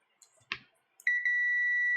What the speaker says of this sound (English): continuity, it will beep.